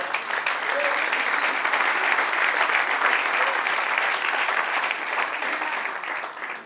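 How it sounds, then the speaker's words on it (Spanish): Congregation applauding during a Spanish-language church Bible class, a steady dense wash of clapping that holds for several seconds before tapering off, with a faint voice or murmur underneath. "Dale un aplauso, Señor."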